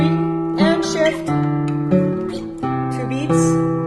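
Guitar playing a bass line in steady eighth notes with chords on top, a sustained low note shifting pitch every couple of beats under ringing upper strings, close and alone.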